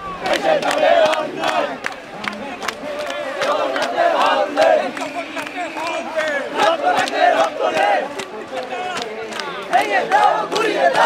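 Students at a university protest rally chant in unison as a crowd, rhythmic shouted slogans with sharp repeated beats, loud and continuous throughout.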